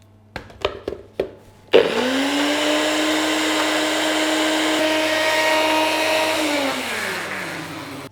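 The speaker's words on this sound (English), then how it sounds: "So don't be afraid to really blend this to bring out the colour of the basil" A blender whirs steadily through basil pesto with a little oil after a few short knocks and taps, running loud and even for several seconds before winding down near the end.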